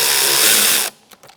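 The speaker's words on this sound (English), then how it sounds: "Using an 8mm socket, we're going to remove this hose clamp." An 8mm socket on a power tool backs off a hose clamp on a 2012-2019 Fiat 500 1.4L four-cylinder engine, a short loud whirring burst of under a second followed by a few faint clicks.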